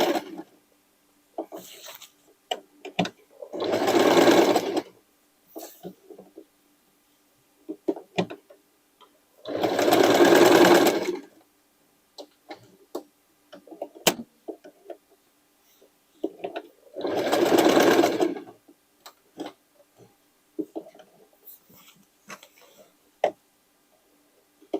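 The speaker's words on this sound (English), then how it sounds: "you can stitch it back and forward as you wish" A sewing machine stitches fabric for a dress made from sweatshirts and scraps, running in three separate bursts of a few seconds each with quiet pauses and small handling clicks between them.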